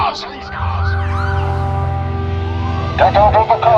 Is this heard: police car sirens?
yes